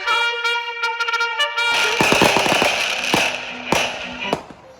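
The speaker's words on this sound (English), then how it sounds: "We've seen lots of fireworks. They're amazing. They're so loud" Independence Day fireworks burst loudly overhead in California, with a tonal whistling launch giving way to a rapid cluster of crackling, popping explosions and a few heavier booms.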